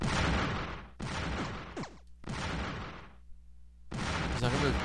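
Bomb explosions in the Bomberman Live video game, a run of loud, dense blasts arriving in repeated bursts with brief gaps between, forceful and close, mixed with other game effects.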